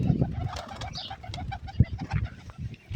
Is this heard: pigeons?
yes